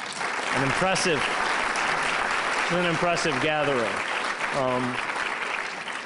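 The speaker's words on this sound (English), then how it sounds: "I think whoever organized this deserves a round of applause." Steady applause from a lecture audience at a talk on Palestine, sustained and filling the room throughout while someone speaks over it.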